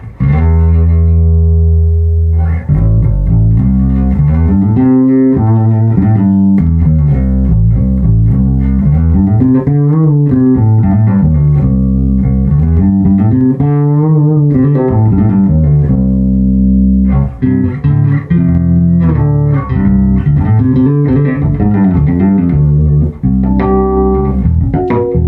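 Bass guitar played through a Bergantino Forte HP head with its variable drive engaged, producing loud, sustained, gritty low notes and sliding phrases up close, with no talking.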